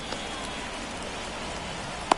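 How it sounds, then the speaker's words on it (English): Steady rain falling in a PS4 baseball video game, a continuous close hiss with one brief sharp tap near the end. "It feels like we might be headed towards a rain delay if the weather doesn't ease up, Chris."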